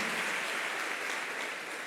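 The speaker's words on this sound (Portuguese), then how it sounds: "Aplauda ao Senhor e sente-se" A church congregation claps together in a continuous, even wash of applause, moderately quiet and without voices over it.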